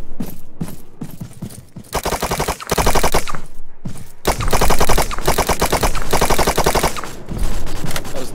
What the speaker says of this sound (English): That was not good shooting.